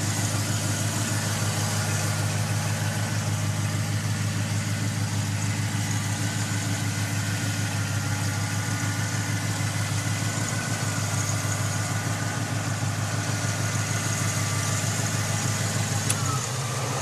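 The engine of a 1978 Ford Pathfinder Quadravan 4x4 van idles steadily with a constant low, rumbling drone and unchanging vibration, heard close and fairly loud throughout with no talking.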